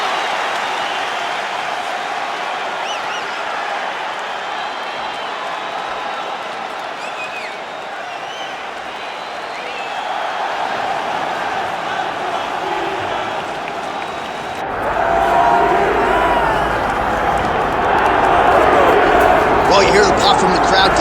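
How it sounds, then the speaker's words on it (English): Crowd noise in the EA Sports UFC 5 video game rises as Nate Diaz makes his octagon walkout, a steady broad roar of cheering and applause that swells louder in the final seconds, with no commentary over it. "you hear the pop from the crowd, DC, as Nate Diaz gets set to make this walk"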